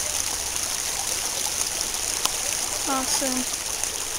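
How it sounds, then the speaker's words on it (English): Water trickles steadily over a tiny two-inch drop in a river, a soft continuous outdoor babble with a brief word spoken and a faint bird chirp near the end. "It's not really a waterfall because it's like 2 inches high."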